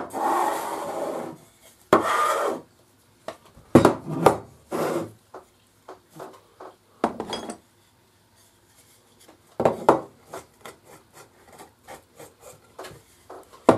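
A drill bores a pocket hole in wood through a Katsu portable pocket hole jig, cutting in short rasping bursts separated by pauses, loud and close, with a few shorter scraping bursts toward the end.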